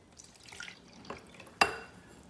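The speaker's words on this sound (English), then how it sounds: "add the water" Water poured into the reservoir of a single-serve pod coffee maker: a short, close, light trickle followed by a sharp plastic clunk, then quiet, with no voices.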